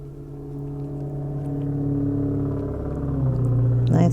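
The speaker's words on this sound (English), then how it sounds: "Nice loud car." A loud car passes outside with a steady low engine rumble that slowly swells and then rises at the end, heard from indoors with no talk.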